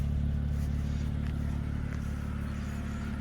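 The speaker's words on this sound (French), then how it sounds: "Vous avez cette très belle ligne d'échappement avec ce bruit sport" A 2011 BMW Z4 sDrive 2.5-litre with a sport exhaust idles with a low, steady burble, close by and constant, with no revving.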